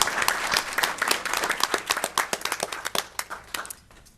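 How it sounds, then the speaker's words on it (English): Audience applause at a school board business meeting: a roomful of people clapping steadily, loud and close, then thinning into scattered individual claps as it dies away. "Let's give him a round of applause."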